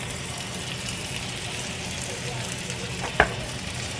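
Chicken tenders sizzle in an unplugged double omelette maker, a steady close frying hiss broken by one sharp clack near the end as the hot lid is lifted.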